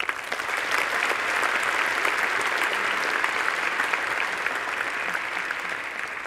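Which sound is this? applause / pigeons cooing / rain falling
applause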